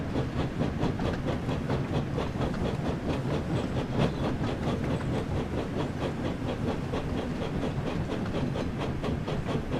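A train runs on rails in a video game, with a steady rhythmic clickety-clack and rolling rumble continuing at even volume with no talk.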